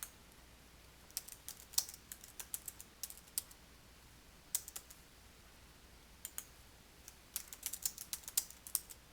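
Quiet computer keyboard typing, with bursts of soft, rapid key clicks separated by brief pauses as notes are entered during a Microsoft Teams meeting.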